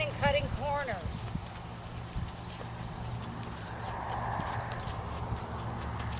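A horse canters over ground poles in a maze-like exercise, its hoofbeats thudding steadily through several strides beneath continuous talking, with a brief whinny-like call near the start.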